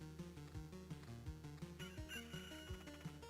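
A rooster crow from the video game Loop Hero, a rising, harmonic call entering partway through and sounding over steady, rhythmic game music.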